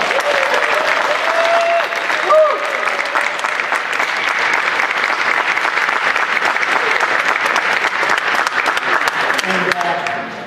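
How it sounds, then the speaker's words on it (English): Steady, loud applause from a large audience at a comic con panel in Las Vegas, dense clapping sustained across the whole stretch with a faint voice at the very end. "Let's give him a round of applause."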